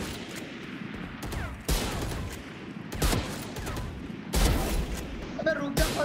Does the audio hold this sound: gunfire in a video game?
yes